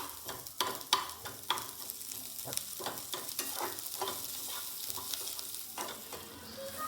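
Onions fry in a pan in a home kitchen, a steady crackling sizzle with sharp clicks of a utensil stirring and scraping at irregular intervals, close and moderately loud with no talking.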